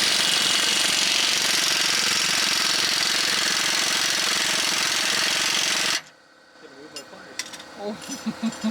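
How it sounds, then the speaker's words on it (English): Air gun hammering off U-bolt nuts on a 2004 light-duty truck differential, driven by a new air compressor; a loud, continuous rattling impact burst lasts about six seconds, then stops abruptly into quieter clanks and faint voices. "turn on my new air compressor and get an air gun"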